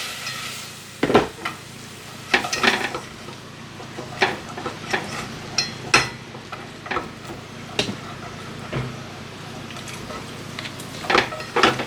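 Cider added to a sizzling pan for a roasted pork belly dish with potatoes, onions and apples, a steady close frying hiss under repeated scraping and clinking stirring strokes, with a person talking at times.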